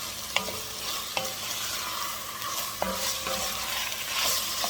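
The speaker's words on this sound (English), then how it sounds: "Stir that all around." A spoon stirs eight ounces of cubed regular ham into softening vegetables in a soup pot, with a steady low sizzle and a few sharp clinks of utensil on metal, close and without talk.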